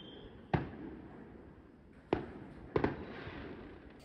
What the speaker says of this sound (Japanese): なんと花火が上がっていました